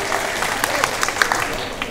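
Audience applause at a Chinese singing contest final in Christchurch, New Zealand: a steady wash of clapping from a crowded hall, moderately loud, with a few sharper claps standing out and no voices.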